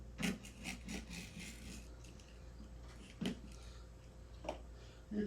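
Felt cloth on a pool table rail being cut along the staples after rubber replacement: faint, close rasping and scraping strokes in uneven bursts, with a few sharper snips and rubs against a low background hum.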